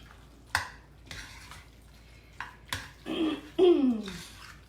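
Casserole sauce thinned with milk is mixed in a bowl, with irregular wet swishing strokes and clinks of a utensil against the bowl, several louder scraping sweeps near the end, close by and quiet between strokes.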